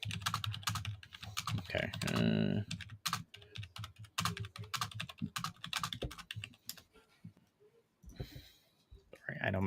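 Heavy, rapid clacking on a computer keyboard fills the room in dense bursts, with someone talking over and between the keystrokes during a live hockey draft broadcast.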